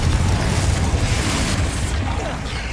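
A Confringo explosive spell bursts in Hogwarts Legacy, giving a loud, dense rumbling blast with a low boom that fades slightly toward the end.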